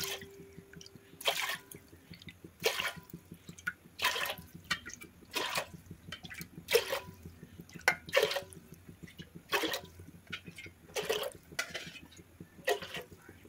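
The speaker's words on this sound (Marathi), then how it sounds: "त्याच्यामध्ये आपण हे पाणी मोजून टाकतोय।" Measured bowlfuls of water are poured one after another into a cooking pot, about a dozen short splashing pours repeating at a steady rhythm, close and fairly quiet with no talking.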